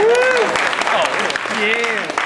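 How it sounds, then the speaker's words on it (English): Applause from a town hall meeting audience as the next speaker is introduced, a short burst of clapping with voices talking over it. "You can applaud, it's okay."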